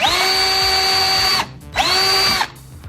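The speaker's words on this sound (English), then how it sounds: "we're just going to drill a little pilot hole through here, and the pre-drilled hole in the spoiler thingamabob" A power drill bores a pilot hole through a Mountune lower spoiler on a Fiesta ST in two close, loud whining bursts separated by a brief pause.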